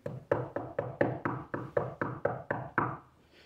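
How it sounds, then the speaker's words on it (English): About eleven sharp knocks on a hard surface in an old train depot, evenly spaced and fairly close, followed by a short faint pause. "Can you knock for me?"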